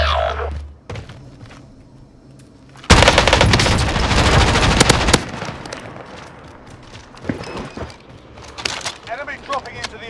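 Gunfire rattles in Call of Duty Cold War Warzone on Rebirth Island, with a sudden loud burst of rapid automatic shots after a quieter stretch, then scattered thuds and shots while players talk.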